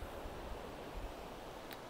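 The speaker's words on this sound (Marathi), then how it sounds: "आणि हा समुद्र आहे." Sea waves wash onto a sandy beach at Malvan in a steady, unbroken roar of surf that fills the whole stretch without any voices.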